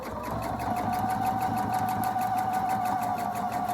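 A sewing machine runs steadily, stitching a quarter-inch seam through the back sashing of a quilt-as-you-go block, with a fast, even mechanical whir and tapping that stays loud and close throughout with no talking.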